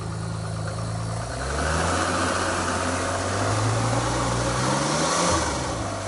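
A supercharged Alfa Romeo engine idles steadily outdoors, giving a low continuous hum that rises slightly partway through and then holds level, with a faint higher whine over it and no voices.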